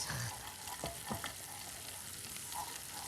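Spoon stirring a tomato paste sauce through bulgur pilaf with green tomatoes in a pan, giving a steady close sizzle with a few soft scraping strokes, no voices.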